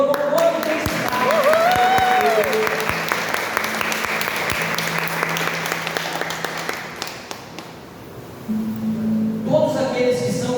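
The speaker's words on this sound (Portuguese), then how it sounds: "aplauda o Senhor com muita intensidade" A church congregation at a charismatic renewal worship service applauds loudly and steadily for about eight seconds, a near, dense roar of clapping that briefly thins and then fades, with some voices mixed in.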